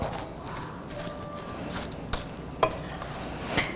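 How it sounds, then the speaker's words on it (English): French onion soup broth being stirred in a pot, with soft scraping and a gentle simmering hiss, a couple of sharper spoon knocks near the end. "Give it a good stir."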